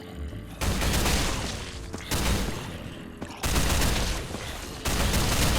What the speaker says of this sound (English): we'll watch this LMG turret go to work